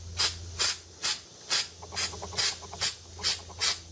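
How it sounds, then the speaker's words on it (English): Rust-Oleum coating sprayed from an aerosol can onto a plastic wheelbarrow in eight short, evenly spaced hissing bursts, close and fairly loud. "And then what I'm going to do is take this and spray it again."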